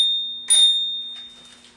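A bicycle bell on a Sparkbikes Mini bike gives a single bright ring that fades quickly, with a faint second tap after it, over a steady high electronic tone.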